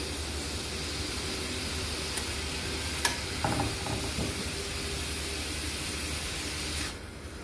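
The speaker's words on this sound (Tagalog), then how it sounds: "Continue lang natin yung iba pang hindi na fry." Beef frying for a creamy beef steak, with a steady broadband sizzle in a pan running the whole time, a couple of brief clinks partway through, and the sizzle easing off near the end.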